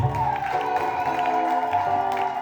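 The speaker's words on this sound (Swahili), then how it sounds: "Hebu mpe Yesu makofi." A church congregation applauding, a loud, continuous wash of clapping mixed with crowd noise and a few cheers, with musical tones sustained underneath.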